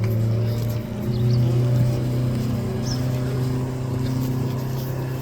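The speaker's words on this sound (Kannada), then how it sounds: "ಬೋಟ್ ಹತ್ತಿದ್ದೀವಿ ಈಗ." A speedboat on Banasura Sagar Dam reservoir in Wayanad gives a steady, loud engine drone with a low hum and churning water, running continuously throughout without pause.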